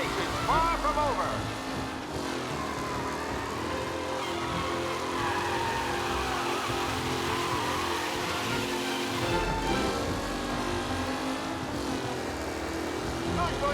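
Race car engines roar steadily in the Mafia: Definitive Edition race-day mission, a continuous loud mechanical drone with pitch shifts as cars accelerate, under a commentator-style voice.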